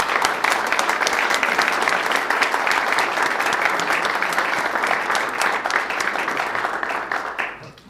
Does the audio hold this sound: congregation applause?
yes